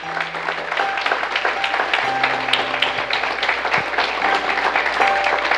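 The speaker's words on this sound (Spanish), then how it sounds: "Aplauda la grandeza de Dios en esta mañana." A church congregation applauds during a Sunday morning service, with continuous, lively clapping from many hands over steady sustained musical tones.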